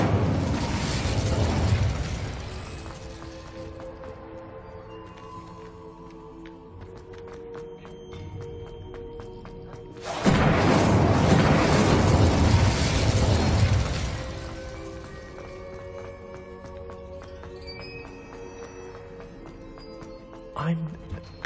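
An Incendio fire spell from Hogwarts Legacy bursts out in two loud, roaring whooshes, the second longer and fuller, with quieter game ambience and a short sharp hit at the end.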